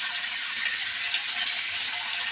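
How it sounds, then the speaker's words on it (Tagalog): A little water poured into a pork marinade, a steady close splashing stream running without a break and with no talking. "yung pinagmarinitan, nilagyan ko siya ng konting tubig"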